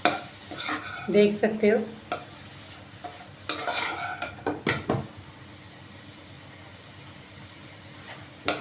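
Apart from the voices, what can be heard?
bitter gourd being stir-fried with masala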